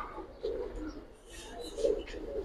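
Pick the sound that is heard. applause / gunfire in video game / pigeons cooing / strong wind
pigeons cooing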